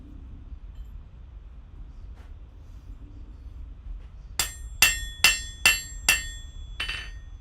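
Hammer blows on an anvil in a smithy, a quick run of about six sharp ringing metallic strikes after a quiet stretch, close and loud.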